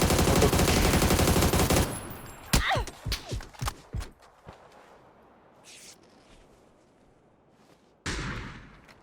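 A dense burst of rapid gunfire in the video game PUBG gives way to a series of separate sharp shots that fade into quiet, then another loud blast near the end.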